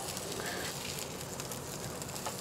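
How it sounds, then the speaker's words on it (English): Burger patties sizzle and crackle steadily in a hot pan, a dense, continuous frying hiss with no voices over it. "our burger patties are still sizzling away there"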